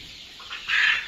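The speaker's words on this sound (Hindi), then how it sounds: "ये असील क्रॉस बच्चे हैं। ये भी एक देसी मुर्गी का ही प्रकार है" Aseel cross chicks, a desi chicken breed, give a short burst of high, close peeping clucks that grow louder toward the end.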